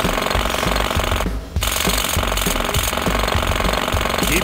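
A jackhammer drills in the Rescue Heroes Hurricane Havoc video game, a loud, continuous rapid rattling that cuts out briefly near the middle before pounding on again, with no talking.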